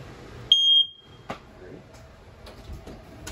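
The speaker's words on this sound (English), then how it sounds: "And for your smoke detector, it's just right here." A single sharp, high electronic beep from a smoke alarm in a 2022 Wildwood 28VBXL travel trailer sounds briefly, followed by quiet room noise and a few soft clicks.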